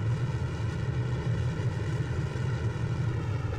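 A rocket engine fires in a space flight game as a steady, loud roar with a deep rumbling low end, continuous and unbroken.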